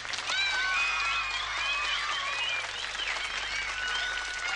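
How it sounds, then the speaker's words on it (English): Audience applause for three young contestants at a Young Talent Quest show, a steady, dense clapping that fills the whole stretch, with faint whistles and cheers riding over it. "let's have a big round of applause for our 3 contestants"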